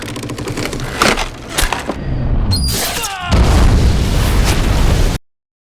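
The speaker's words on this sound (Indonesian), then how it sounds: "ia tanpa sengaja menarik kabel yang memicu ledakan." Dynamite blast in a mine in a film scene, a loud rumbling explosion surge with crackling debris, booming and roaring for several seconds before cutting off abruptly.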